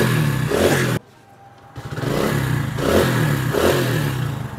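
An old motorcycle fitted with an electric self-start kit is cut off, pauses briefly, then cranks and fires back up into a steady, pulsing idle with mechanical clatter, loud and close.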